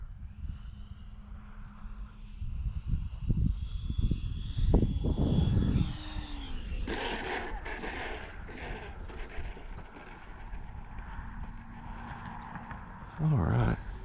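A FlyFans K-8 Red Falcon RC model airplane flies on a gusty day, its motor droning and swelling as it passes, with a louder stretch midway before it fades back to a steady hum.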